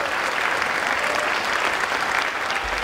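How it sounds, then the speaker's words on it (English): A crowd at a senior athletic awards evening gives a dense, steady round of applause for the student athletes' teachers, parents and families, loud and continuous with no talk over it. "How about a quick round of applause for their support network, their teachers, their parents, their families"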